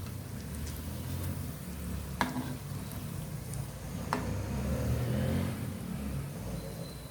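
Chicken keema cutlets fry slowly in oil over a medium flame, a soft, continuous sizzle with a couple of sharp clicks or pops standing out.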